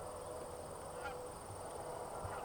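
Geese honking in flight over North Dakota hunting grounds during early season, a faint distant chorus of calls under steady wind and field noise.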